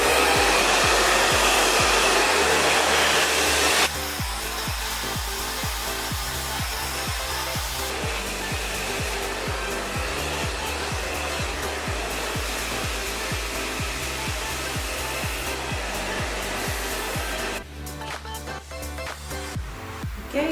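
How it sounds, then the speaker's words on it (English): A hair dryer blows loud and close throughout as a section of curly hair is dried smooth, its whoosh shifting in tone as it moves, with brushing and rubbing sounds mixed in. "So another section to blow dry."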